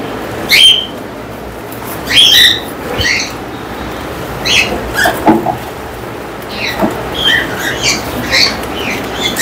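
Breeding pair of lovebirds in a breeding box giving short, sharp squawks and chirps at irregular intervals, close and loud against a quiet background.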